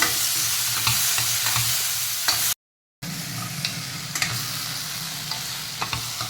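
Garlic, cumin and tomatoes sizzle steadily in a hot pan on the stove, a continuous frying hiss broken by the scrape of stirring and a brief gap of silence.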